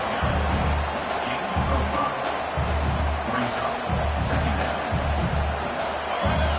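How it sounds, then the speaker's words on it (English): A large stadium crowd in the video game College Football 26 roars and cheers in waves, with a commentator talking over the noise. "It's early, but this crowd is fired up"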